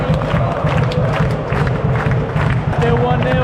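Football fans at a Euro 2024 match between Slovenia and another side, a broad crowd roar with scattered applause rumbling steadily in the stadium, with a nearby voice talking over it.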